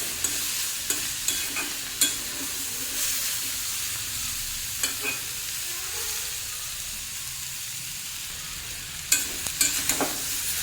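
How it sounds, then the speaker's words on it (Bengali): Flat beans sizzle and crackle in a hot pan, with a spatula scraping and tapping the pan now and then; steady frying hiss throughout, no voices. "একদম শুকনো শুকনো করে ভেজে নিতে হবে"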